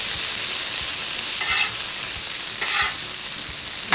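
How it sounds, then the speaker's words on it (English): Onions sauté in oil on a griddle for Mongolian beef, a constant close sizzle broken by two brief scraping stirs, with no speech. "Throw some oil on the griddle, lay them on. I'll let these saute for about 3 to 4 minutes"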